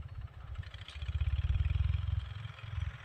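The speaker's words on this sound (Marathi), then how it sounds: "ट्रॅक्टर ऊस फोडणी चालू आहे" A heavy tractor engine chugs steadily while breaking up sugarcane in a field, with a low, rhythmic thumping pulse that grows slightly stronger midway, running continuously and fairly close, with no voices.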